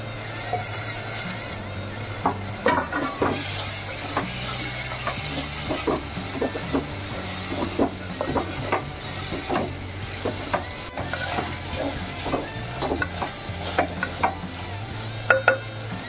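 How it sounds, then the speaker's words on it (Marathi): Fresh prawns fry in a pan and are stirred, giving a steady close sizzle broken by frequent sharp scrapes and clicks of the utensil, with no talking. "आता मी कोळंबी टाकते। ताजी ताजी कोळंबी आहे ना।"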